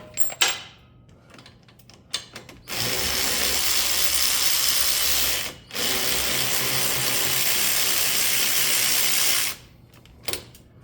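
Power ratchet spinning out wheel hub bolts on a 2018-2021 Chevrolet Equinox, two long continuous whirring runs close by, separated by a brief pause, with metallic clicks and tool handling before and after.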